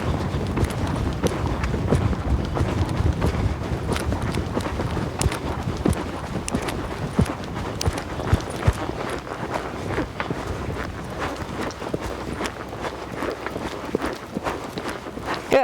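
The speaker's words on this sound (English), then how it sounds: "And he picks up the canter." A horse named Moshi canters in a steady three-beat rhythm of close hoofbeats on soft ground, continuing throughout with light wind noise and occasional talk.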